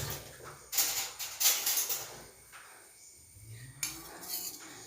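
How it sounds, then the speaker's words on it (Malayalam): A spoon clinks and scrapes against a bowl while stirring a homemade herbal hair-wash paste, with irregular close taps and rubbing strokes. "ഇതത് നല്ലോണം ഇളക്കിയെടുക്കുക"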